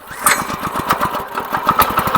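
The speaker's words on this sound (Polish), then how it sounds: "No i uruchamiamy silnik." A small engine putters into life and keeps running with a rapid, rhythmic chugging, close and fairly loud, like a mower.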